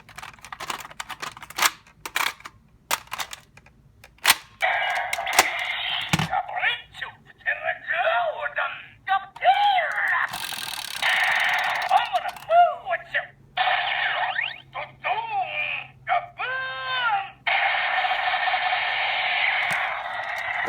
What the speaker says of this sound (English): That's it for the sounds right there.